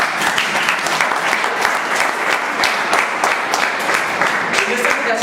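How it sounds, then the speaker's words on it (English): A live audience breaks into loud, sustained applause at a staged event, the clapping thick and continuous from start to finish, with voices faintly mixed in. "A round of applause."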